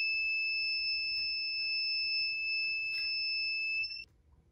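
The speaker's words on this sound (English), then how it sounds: "If she goes out or if somebody takes her, the alarm's gonna sound." A steady two-tone electronic alarm from a TWIN Curiosity kit security system sounds loud and continuous for about four seconds, then cuts off abruptly.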